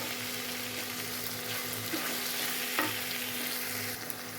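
Onions sautéing in a pan for a clam meat dish make a continuous, even frying hiss with a faint occasional stirring scrape, close and moderately loud.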